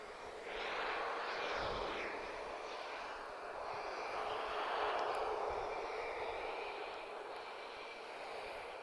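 Roar of airliner jet engines at Lisbon Airport as a TAP A320-214 lines up, a broad, steady rumbling whoosh that swells and fades at a middle distance, with no talk.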